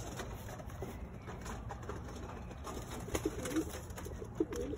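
A distressed cock pigeon coos in soft repeated bursts, close and fairly quiet over a faint steady background hum.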